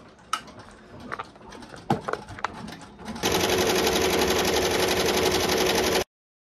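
An embroidery machine stitching out a borderless patch starts after a few scattered clicks and knocks, then runs as a loud, fast, steady mechanical chatter for about three seconds before cutting off abruptly.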